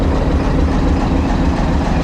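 A classic train pulls out of a station close by with a loud, steady low rumble and rattle of wheels and cars throughout, and no voices.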